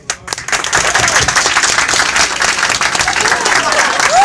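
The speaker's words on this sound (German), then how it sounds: "dass ihr bitte einmal klatscht" Audience at a live concert in Berlin claps together on request, with loud, dense, sustained applause filling the space and a few faint cheers.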